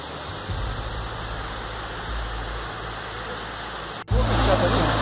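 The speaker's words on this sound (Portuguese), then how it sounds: "Cascata boa aqui, ó." Waterfall cascade at São Thomé das Letras, a constant hissing rush of falling water close by that continues steadily, with a brief dropout and a louder surge near the end.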